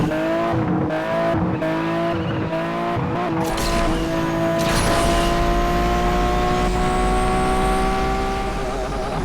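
A Lamborghini Veneno races in Asphalt 8 with a loud engine whine, rising in pitch through gear changes. Brief tire squeal or whoosh sounds come near the start, followed by a long sustained high-revving drone.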